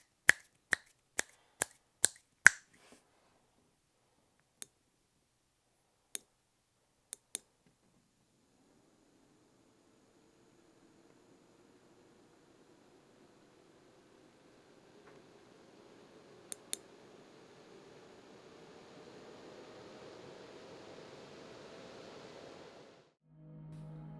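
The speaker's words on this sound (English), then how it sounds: "Next is the sound test of the fan, and I'll leave it up to your discretion what you think to it." Ulanzi camera cooling fan mounted on a Sony A6700: after a series of sharp clicks, a soft, steady whirring hum rises and holds for several seconds, faint and constant, then stops abruptly.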